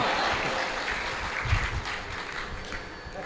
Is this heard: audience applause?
yes